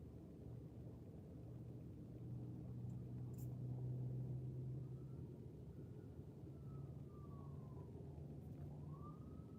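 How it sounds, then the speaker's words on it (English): An emergency vehicle siren wails faintly in the distance, its tone sliding up and down over a steady low rumble of traffic. "It's the 8th siren to go by?"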